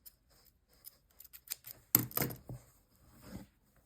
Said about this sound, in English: you can pull a little bit of yarn like this and cut it.